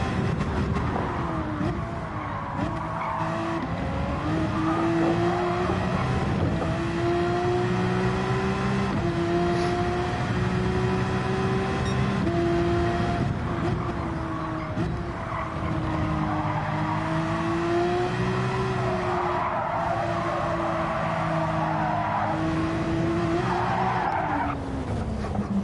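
A Porsche race car in Gran Turismo 7 held at a loud, steady engine drone that shifts pitch through gears, with tires squealing continuously as it corners hard, lasting throughout without talk.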